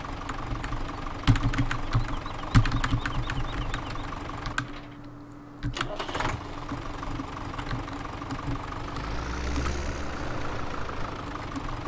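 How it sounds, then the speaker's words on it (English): A tractor engine in Farming Simulator 17 idles with a steady mechanical drone and scattered clicks, cuts out briefly midway, then comes back and rises slightly toward the end. "I like the sound of this tractor now, though."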